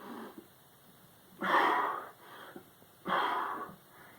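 Heavy, exaggerated breaths during push-up reps, two loud forceful exhales spaced about a second and a half apart over quieter inhales, close to the listener.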